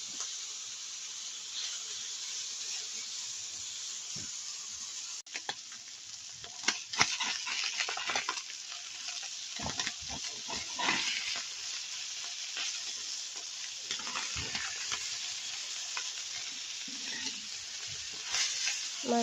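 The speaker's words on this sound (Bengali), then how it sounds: "গুঁড়ো মাছগুলো ভেজে নিচ্ছি।" Small fish frying in oil, a moderate steady sizzle with bursts of louder crackling and spattering, close by with no talk.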